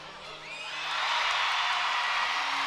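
A crowd at an LSU gymnastics meet swells into a sustained ovation, broad cheering and whooping building louder and holding steady.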